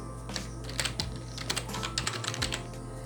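Fingers tap steadily on a computer keyboard at close range, a run of quick, crisp clicks over a faint low hum.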